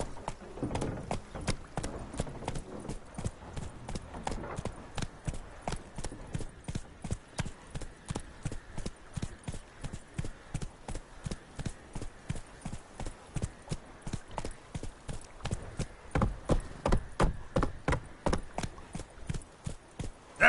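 Roach, a horse in The Witcher 3, gallops in a fast, regular clip-clop of hoofbeats that continues without a break, moderately loud, with no voices.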